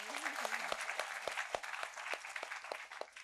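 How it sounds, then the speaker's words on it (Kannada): Sharp claps ring out at an irregular, fairly steady pace, with light crowd murmur behind them, during a Kannada motivational talk to students. "ಚಪ್ಪಾಳೆ."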